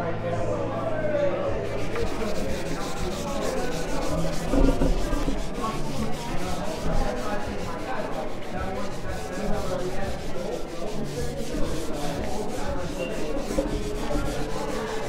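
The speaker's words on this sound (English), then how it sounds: "This is like a scouring pad, slightly abraded, or it's coarse so it'll abrade the surface." A coarse 3M scouring pad rubs across a wooden restaurant table surface with a steady, continuous abrasive scrubbing that carries on at an even level, with some talk underneath.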